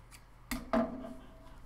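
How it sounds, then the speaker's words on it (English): Scissors snip a short piece of twine during a pumpkin craft made from wine corks: two quick, close cuts in quick succession, followed by a faint lingering hum in an otherwise quiet room. "We'll just cut a little piece off."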